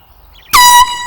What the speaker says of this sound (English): This is a marine air horn.